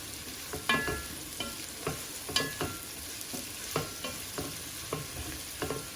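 Onions frying in a pan for sticky rice, a continuous close sizzle broken by regular scrapes and taps of a spatula stirring, with no voices.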